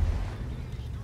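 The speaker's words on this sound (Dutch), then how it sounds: "En hier is dan mijn eerste damage die ik ontvang. En dat is een heat shell van de IS-4." A HEAT shell fired by an IS-4 heavy tank slams into the player's tank in World of Tanks, a single heavy, low booming impact that rumbles briefly, close and loud.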